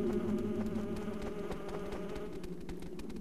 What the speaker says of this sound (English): I know I hear a freaking mosquito